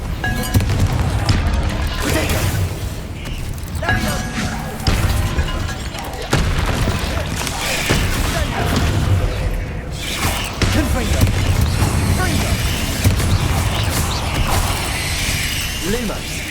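Confringo fire spells burst and boom repeatedly in the wizarding game Hogwarts Legacy, with crackling impacts, shattering debris and mechanical clatter layered in a dense, continuous mix over steady game ambience while a voice talks.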